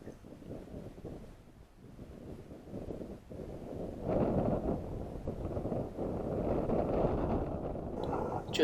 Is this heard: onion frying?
no